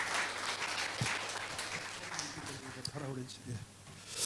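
A church congregation at a New Year's Day Sunday worship service applauds to welcome the pastor, a soft, fairly distant patter of clapping, with a voice speaking over it in the second half.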